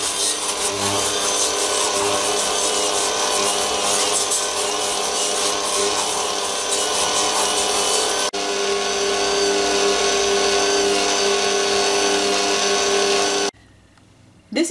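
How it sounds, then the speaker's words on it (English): Butter, sugar and vanilla are whipped into a creamy batter in a bowl, giving a loud, steady mechanical whirring that runs continuously before cutting out briefly near the end, with no talking. "I have 200 grams of butter here in a bowl and 200 grams of sugar and some vanilla, and I'll mix this together until I get a nice and creamy batter."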